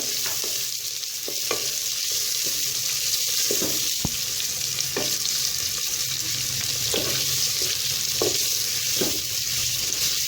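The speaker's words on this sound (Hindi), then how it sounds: "प्याज को हम अच्छे से फ्राई कर लेंगे।" Chopped onions frying in hot oil in a pan for aloo keema, a steady broadband sizzle running the whole time with occasional soft stirring scrapes and clicks, close and fairly loud, no talking.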